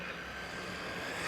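An upgraded ARRMA Mojave 4S RC car at full throttle gives a steady, faint, whining motor drone heard from a distance, holding level throughout.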